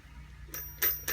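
A toy doorbell on a Peppa Pig schoolhouse playset gives three short, bright electronic rings, quiet against a low steady hum.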